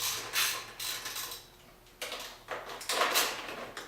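Bolts on an 8mm radiator brace are backed out with a hand tool, producing bursts of ratcheting and scraping metal with short pauses between turns, close by.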